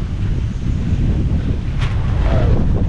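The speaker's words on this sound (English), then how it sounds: "Oh, it's so windy." Strong wind gusts across the microphone at Nelson's Dockyard in Antigua, a harbor setting, giving a loud, steady roaring buffet that lasts throughout with no talking.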